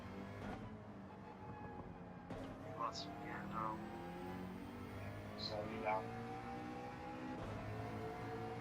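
A McLaren race car's engine drones and climbs steadily in Gran Turismo 7, with rising harmonic tones throughout and a few brief bursts of voice over the continuous racing noise.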